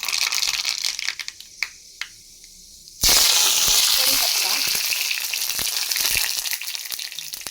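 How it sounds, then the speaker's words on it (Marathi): Mustard seeds hit hot oil in a tadka pan and burst into a loud, crackling sizzle that continues to the end. Before that come a few quiet clinks and taps. "एका तडका पॅनमध्ये मी तेल गरम करून ठेवतले त्याच्यामध्ये पहिले जाईल मोहरी"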